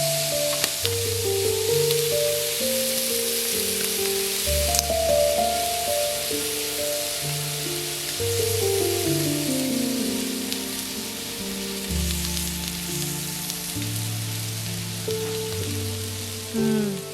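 Octopus tentacles grilling over a smoky char for a Thai seafood salad, a steady broadband sizzle running the whole time beneath louder stepped melodic music.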